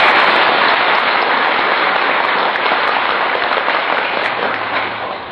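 Audience at a religious talk clapping their hands, a loud dense rush of many hands that fades slightly toward the end.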